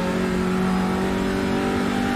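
Audi RS3 LMS TCR touring race car on track at Brands Hatch, its engine droning loud and steady at sustained high revs throughout, with a strong constant tonal hum and no talk over it.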